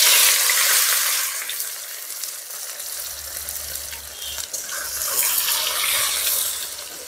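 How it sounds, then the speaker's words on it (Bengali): Chopped onions fry in hot oil with bay leaves, dried red chillies and cumin for a chicken curry cooked at an outdoor picnic, a loud, steady sizzling hiss with a low hum running underneath partway through. "পেঁয়াজ ভাজা হয়ে গেছে"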